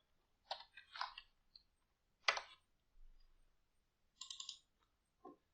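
A few short bursts of computer keyboard typing while an Excel formula gets entered, quiet and close, with brief clicks separated by pauses and no talking.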